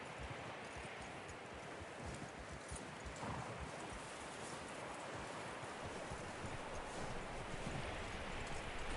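Horse hooves clip-clop steadily in the video game Red Dead Redemption 2, a quiet, continuous rhythmic trot over soft ground with a wind-like outdoor wash behind it.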